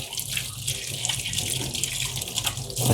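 Tap water runs steadily over an air cooler motor as it is washed, a continuous splashing stream like a filling sink, close and moderately loud with no speech.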